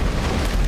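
Explosion in a video game, a dense low rumbling boom filling the whole short moment, loud and close with no talking.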